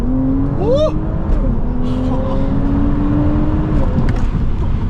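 Stage 2 Audi S4 accelerating hard with wheelspin, engine note climbing quickly through a rising whine and then holding a steady roar, heard from inside the car under a loud background rush.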